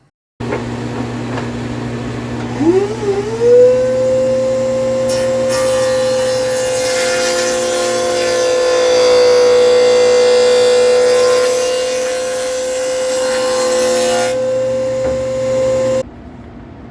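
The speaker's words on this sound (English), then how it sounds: "Cut that dado in there, and I'm going to do that on all 3 of my panels" A table saw fitted with a dado blade cuts grooves into wood panels for an epoxy book end table: the motor spins up to a loud, steady whine, a rougher cutting roar rises midway, then the sound stops abruptly, close with no talk.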